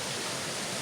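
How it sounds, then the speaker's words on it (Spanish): A waterfall on a hiking trail in Aranga, Galicia, Spain, a dense, even rush of falling water that stays loud and unbroken. "Hay otra cascada ahí."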